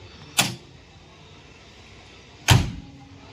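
A door on a 1982 Hindustan Ambassador diesel car is worked open, giving two short, sharp mechanical clacks about two seconds apart, the second heavier and longer, close by in an otherwise quiet space.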